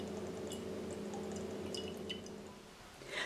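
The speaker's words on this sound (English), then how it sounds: "We can now shake the coconut to release the coconut water" Coconut water from a punctured coconut drips and trickles into a bowl in a quiet kitchen, with small irregular splashes close by.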